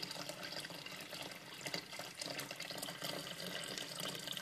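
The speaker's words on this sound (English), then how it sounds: "Okay, so you take it, and you go ahead and pour the water inside." Cold tap water pours steadily into a nano 5-gallon saltwater aquarium during setup, a continuous splashing gush close by with no talking.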